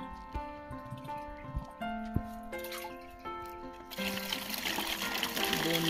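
Water poured from a one-litre bottle into a container while measuring out litres, a trickling, gurgling pour that fills and rises in pitch, then turns into a fuller splashing rush near the end.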